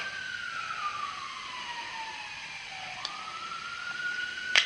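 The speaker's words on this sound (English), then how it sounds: "Sirens outside." A distant police siren wails in slow rising and falling sweeps over steady city-centre background noise in Nottingham, fairly faint throughout.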